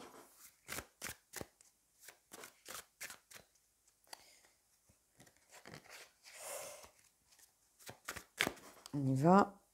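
Tarot cards are handled and shuffled in quick, crisp bursts of riffling and slapping, with a louder, closer rustle near the end. A voice can be heard briefly partway through.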